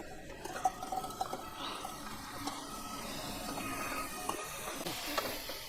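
Olives go into a hot karahi with dried chillies and bay leaves, followed by stirring scrapes and light clinks of a utensil against the pan over a soft sizzle.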